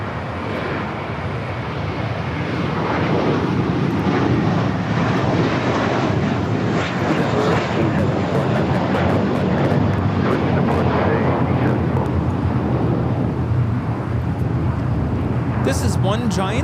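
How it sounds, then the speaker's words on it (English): A JetBlue Airbus A321 taking off from LAX bound for Newark, its jet roar building in the first seconds and then holding loud and sustained, with scattered clicks and a brief noise burst near the end. "This is One Giant Leap for Mint Kind taking off to Newark, JetBlue 1874. It's an A321."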